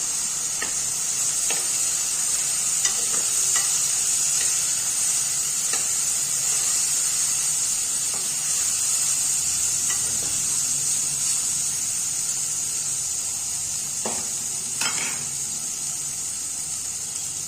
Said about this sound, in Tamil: 1 கப்பு பாஸ்மதி ரைஸ், இதை நம்ம நல்லா வதக்கிக்கலாம்